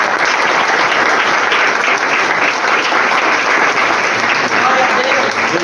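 A church congregation claps in steady, sustained applause, dense and loud throughout with no pauses.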